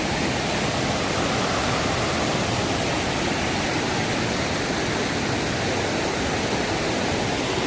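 Marottichal waterfall in Thrissur, Kerala, running with low water, gives a steady, full roar of falling and splashing water that fills the whole stretch without a break, with no voices.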